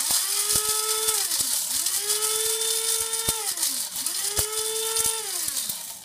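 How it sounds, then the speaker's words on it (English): An electric spice grinder whirs loudly as it pulverizes a classic yogi tea spice mix into powder, its motor pitch repeatedly rising and falling in pulsing cycles, close up and without speech. "Just putting it in the spice grinder to make a powder."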